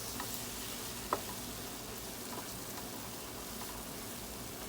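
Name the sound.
stirring salmon and fermented tofu in black bean sauce in pan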